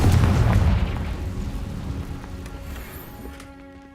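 A Confringo fire spell from the video game Hogwarts Legacy bursts in a heavy, booming explosion up close, its rumble fading with crackling debris over a few seconds.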